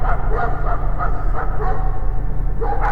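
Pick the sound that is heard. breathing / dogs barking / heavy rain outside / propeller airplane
dogs barking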